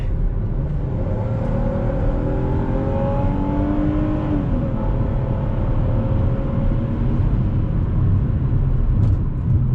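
A 2008 Volvo V70 3.2 SE's naturally aspirated 3.2-litre straight-six kicks down and pulls hard, its steady loud engine note rising in pitch with road rumble and no talk.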